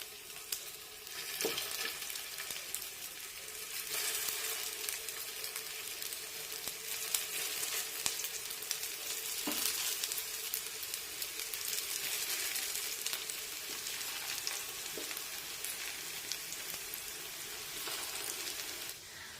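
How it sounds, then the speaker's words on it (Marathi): Pea cutlets shallow frying in moderately hot oil over a medium flame give off a steady, dense sizzle with faint crackles, holding an even level throughout with no voices. "मध्यम हे कटलेट्स शॅलो फ्राय करून घेऊया"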